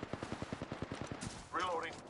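Gunfire in the Apex Legends video game comes as a fast, even run of about a dozen sharp shots. A short spoken voice follows at the end.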